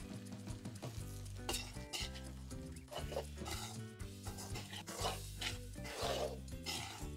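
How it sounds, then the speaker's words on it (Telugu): Egg pulao with garam masala is stirred gently in a frying pan, a continuous soft scraping and sizzling with rhythmic rubs of the spoon, all set beneath steady background music. "ఇప్పుడు మెల్లిగా కలుపుకుందాం. ఎగ్స్ అస్సలు కూడా విరగొద్దు."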